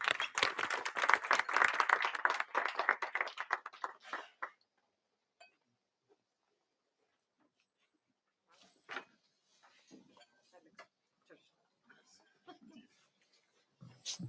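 Audience applause for a young chef contestant at a European cooking competition, a lively burst of clapping lasting about four seconds, then quiet with scattered kitchen clatter and voices talking.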